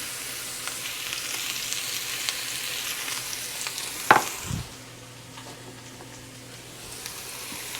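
Flat steak sizzling steadily on a hot griddle, a loud, continuous hiss with a brief clatter partway through, after which the frying settles a little quieter; no one speaks.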